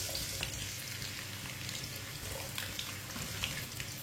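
Cut potatoes sizzling and frying in hot oil in a pan for keri aloo sabzi, a steady crackling hiss with light stirring scrapes throughout.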